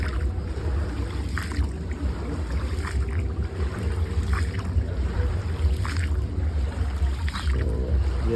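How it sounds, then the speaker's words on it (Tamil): A round coconut-shaped basket boat rides on the water in Vietnam, with continuous splashing and lapping water over low wind rumble and occasional sharper splashes, loud and close. "தேங்காய் மூடி மாதிரி இந்த படகு இருக்கிறதுனால இதுக்கு பேர் வந்து கோகனட் ரைடு."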